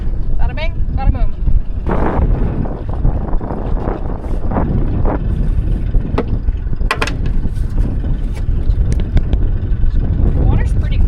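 Gusty wind buffets the microphone over open water off Florida while pulling stone crab traps, with choppy splashing and people talking intermittently nearby.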